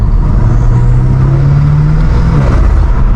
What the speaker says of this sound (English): this time, we have catless downpipes and front mount intakes. So the car is much more louder